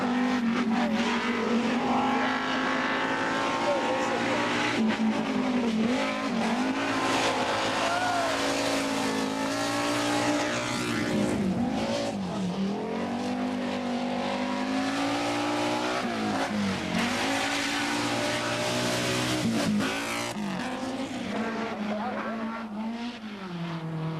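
Rally cars at full throttle on a stage of the 1988 Cyprus Rally, including an Audi Quattro, engines howling and rising and falling through gear changes, continuous and loud, with a commentator talking over it.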